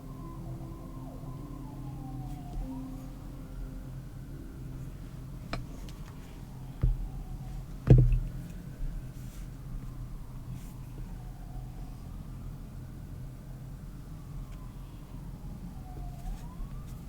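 Wailing emergency sirens sweep up and down outside, passing at a moderate distance over a low steady hum, with a couple of sharp knocks nearby partway through.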